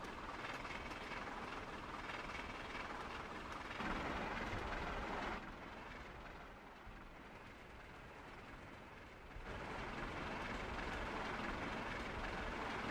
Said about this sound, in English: Let's see how fast this train can go.